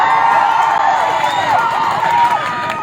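A crowd at a political election rally roars with cheers and shouts, the dense, loud mass of voices sustained throughout with no distinct clapping standing out.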